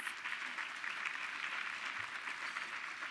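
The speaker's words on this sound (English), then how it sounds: "You can give her a round of applause." Steady applause from an audience at a Women in Trade program, a continuous dense patter of clapping at moderate volume that neither builds nor fades.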